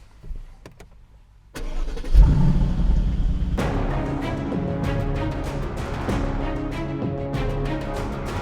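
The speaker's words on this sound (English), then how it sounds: "So here we are driving now" A car starts up and drives off, its engine and road noise rising loud and steady after a quiet opening, then continuing as a close, even rumble from inside the moving vehicle.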